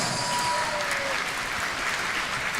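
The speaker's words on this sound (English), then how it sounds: "Everyone, let's give a big round of applause to Ahmad Muaz." Sustained applause from an audience at a tournament grand final, a steady patter of many hands clapping at moderate volume.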